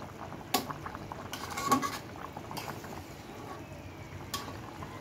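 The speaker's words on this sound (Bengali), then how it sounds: "ঝোলটা ফুটে উঠছে" Rohu fish curry gravy with vegetables bubbling in a pot, a soft continuous simmer broken by a few sharp clinks and taps of utensils, no voices.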